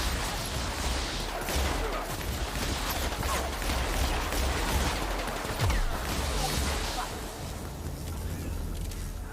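Chaotic video game shootout with scattered gunshots and bursts cracking over a busy, rumbling background, while people talk over the action.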